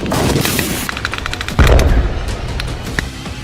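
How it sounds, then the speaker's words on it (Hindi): An anti-tank rocket is fired and strikes its target amid combat: a burst of sharp gunfire-like cracks, then a heavy low boom about halfway through, followed by scattered loud crackling impacts. "निशाना साधता है और फिर एंटी टैंक रॉकेट सीधे टारगेट पर जाकर लगता है"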